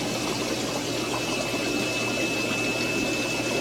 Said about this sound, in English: I have added an air stone just for a little bit of insurance there